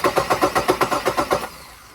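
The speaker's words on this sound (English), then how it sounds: "you give it some voltage and it should crank the motor" The starter of a 2004 Jeep Liberty cranks the engine in about a dozen quick, even chugging pulses, loud and close, then cuts off abruptly without the engine catching.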